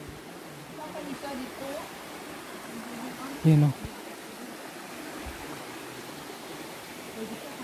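Strong current of water rushing at Kawasan Falls in Trinidad, Bohol, a steady broadband roar that continues throughout, with someone speaking briefly over it and a short thump midway.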